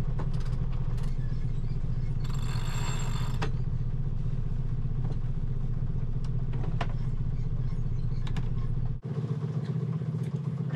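A sailboat's inboard engine idles with a steady low chug and rattling clatter, close and continuous, then cuts off near the end leaving quieter water and wind noise.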